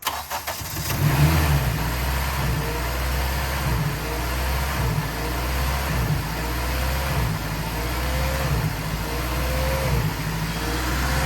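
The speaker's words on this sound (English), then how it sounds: "let me start it up for you, and you can see how it's running now" A turbocharged Honda Element engine with a quiet exhaust cranks and catches, then settles into a steady, close idle with a rhythmic low throb and a faint whine above it.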